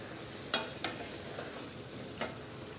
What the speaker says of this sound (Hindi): हम अब इसको तकरीबन 3 से 4 मिनट के लिए अच्छी तरह भून लेंगे मसाले में।